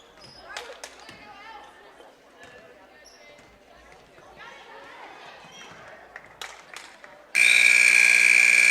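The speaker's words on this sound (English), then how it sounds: "And that is the buzzer that will end this basketball game" A loud, sustained electronic buzzer sounds at the end of a JV girls' high school basketball game, blaring steadily after a stretch of gym noise with a bouncing ball, sneaker squeaks, crowd sounds and a commentator talking.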